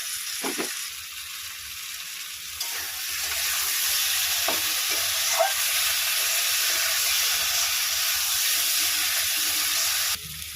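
Spice paste fries for a tengra fish curry, giving a steady, close sizzle and hiss with occasional stirring scrapes throughout.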